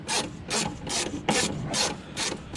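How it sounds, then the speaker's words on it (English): Battery retainer on a Suburban being loosened with a ratchet: six evenly spaced rasping clicks in a steady rhythm, close and fairly loud. "You get your battery retainer loose out."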